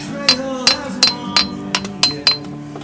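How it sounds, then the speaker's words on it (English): Several sharp metallic hammer taps driving a part into place during a mechanical repair, about seven blows in a loose, fairly even rhythm, close and clear over a steady low background hum. "Let's give him a little bit of tappy tap."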